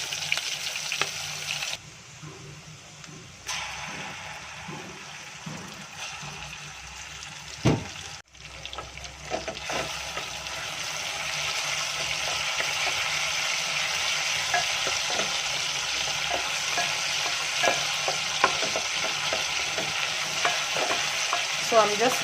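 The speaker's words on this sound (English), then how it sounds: "So I'm just going to stir like this." Cabbage with onions and tomato paste sizzles in a frying pan as it is stirred, with a steady close frying hiss and intermittent scraping of the utensil, growing louder after a brief pause and clatter.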